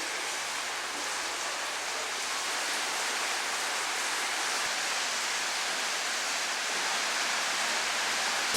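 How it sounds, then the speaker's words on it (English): Heavy rain pours down steadily outdoors, a dense, even hiss of falling water that stays loud and unbroken throughout, with no voices. "It's absolutely peeing down with rain."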